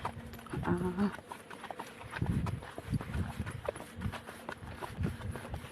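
Horses clip-clop along a road in Ilocos Norte, their hooves knocking in loose, uneven rhythm at moderate distance while people talk faintly in the background.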